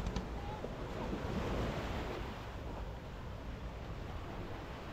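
Sea surf at Phuoc Hai beach, Phan Thiet, washes steadily onto the shore in a broad, continuous roar mixed with wind buffeting the microphone.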